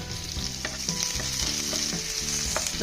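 Green chillies, curry leaves and finely chopped garlic sizzle in hot coconut oil, with a steady close crackle and spatter and a few scraping stirs through the pan, no talking.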